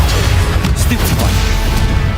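A Stupefy spell cast in Hogwarts Legacy, a loud dense burst of magical impact and crashing noise that fills the whole moment, layered with game effects.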